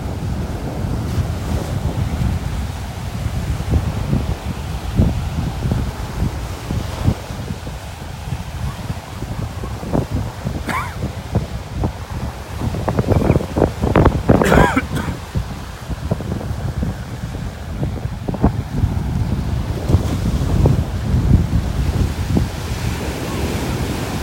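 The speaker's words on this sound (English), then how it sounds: "Boy, the wind is really tossing the camera around here." Strong wind blows over a Gulf beach at Delnor-Wiggins in North Naples, Florida, buffeting the microphone loudly and steadily while waves break and wash in the background, with occasional sharper gust bursts and no speech.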